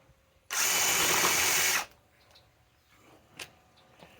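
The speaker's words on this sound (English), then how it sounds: "Let's just put it into here." A Ryobi PSBIW25 compact impact wrench on an 8 amp 21700-cell battery drives into burned wood in one loud, dense burst of about a second and a half, followed by faint ticks and clicks.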